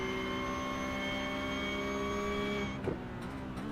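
Porsche Cup race car engine in a sim racing game, a steady high-pitched whine at constant revs that drops off near the end as the car brakes.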